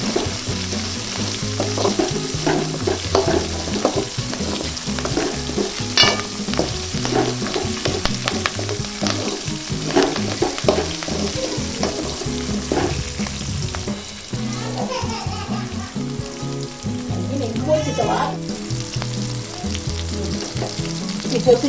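Spices for chicken gravy sizzle and fry in a pressure cooker, giving a loud, continuous crackle with frequent stirring scrapes throughout.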